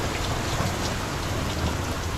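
Heavy rain pours down outdoors in a steady, dense hiss of drops hammering surfaces. The sound is loud and unbroken from start to finish, with no voices.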